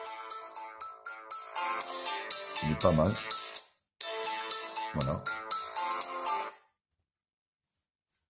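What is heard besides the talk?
UMIDIGI S2 Lite phone ringtone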